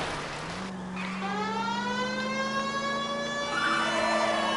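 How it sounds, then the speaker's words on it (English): Police car siren in the video game L.A. Noire, a steady drawn-out wail rising slowly in pitch, fairly loud and close, sounding alone with no talk over it. "Now I'm glad we got a siren."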